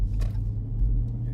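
A Dodge Charger Scat Pack cruises a tight, twisty road, its engine a steady low rumble heard from inside the cabin, with no talk.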